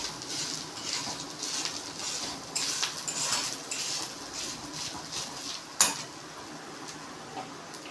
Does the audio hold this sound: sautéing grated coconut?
yes